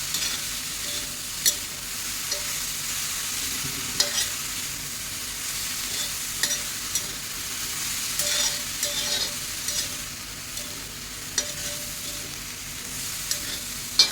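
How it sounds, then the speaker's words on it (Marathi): Dill greens stir-fried in oil in a pan, a constant soft sizzle broken by repeated light scraping strokes of a spatula at irregular intervals, close and without talk. "चांगली अशी परतून घेऊया"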